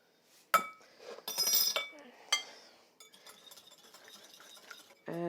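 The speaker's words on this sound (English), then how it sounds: "take our egg, half teaspoon of salt, and we're going to whisk these together" An egg whisked with half a teaspoon of salt in a bowl: sharp clinks of a whisk against the bowl, then a run of quick light tapping strokes, close and fairly quiet.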